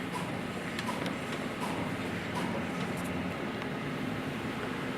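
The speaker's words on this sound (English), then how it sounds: "printer now springs to life, so let's pull back and see the machine" A Hewlett Packard IP785 sheet-fed plotter printing a plot: a steady mechanical whir and rumble runs continuously, with faint clicks and ticks over it and no talking.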